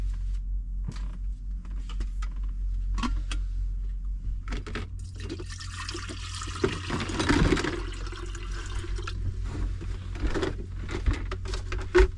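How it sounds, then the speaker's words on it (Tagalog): Water is poured into a coffee maker at home, a gurgling, splashing fill that swells mid-way and then eases, preceded and followed by faint clicks and handling noises with no talking. "Lagyan ko tubig."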